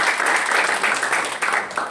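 A church congregation applauds in a full, steady roar of many hands. The sound swells slightly in waves and stays loud and close throughout, without talking.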